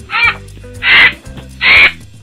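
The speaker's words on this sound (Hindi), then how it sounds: "फिर कौवा काव काव करने लगता है।" A crow caws three times in an even rhythm, each call loud, harsh and close, separated by short pauses of quiet.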